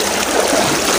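A pressurized stream of water rushes in a continuous, loud broadband hiss, close and unbroken for the whole moment.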